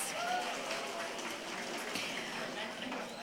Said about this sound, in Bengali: জোরে করতালি প্লিজ।